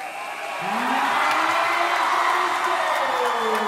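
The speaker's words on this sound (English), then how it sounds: "listen to this crowd" A home crowd roars and cheers in a high school basketball gym as the Las Lomas Knights close out a win over the Northgate Broncos, a dense sustained wall of noise swelling loud after a brief rise.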